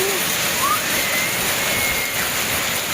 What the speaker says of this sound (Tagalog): Bumuhos ang napakalakas na ulan.